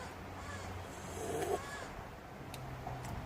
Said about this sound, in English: Listen to that poor fucking crow, will you?